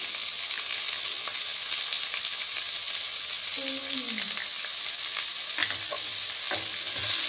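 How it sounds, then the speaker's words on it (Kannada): Onions frying in a pan with salt for poha, a steady soft sizzle throughout with occasional stirring scrapes and clinks, close and moderate in level, with no talk. "ಈರುಳ್ಳಿ ಫ್ರೈ ಮಾಡ್ಕೊಳ್ಳಿ, ಚೆನ್ನಾಗಿ ಫ್ರೈ ಮಾಡಿಕೊಂಡ್ರೆ ಅವಲಕ್ಕಿ ತುಂಬ ಚೆನ್ನಾಗಿ ಬರುತ್ತೆ"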